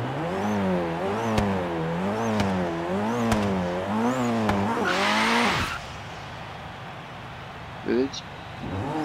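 A Forza Horizon 3 Abarth Fiat 131 engine revs hard at full throttle with brake held, in rhythmic rising and falling surges, then cuts off into a hiss and quieter whine.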